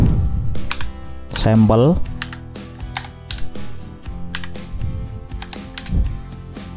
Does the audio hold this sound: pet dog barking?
no